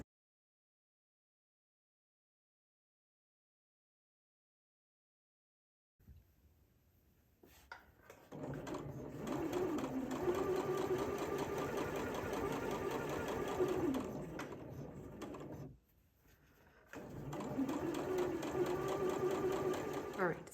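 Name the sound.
sewing machine back stitching and understitching a collar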